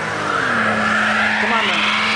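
An Audi Quattro stuck in the cold with its wheels spinning, a loud continuous engine whine and tire squeal rising in pitch, heard close up with people talking over it.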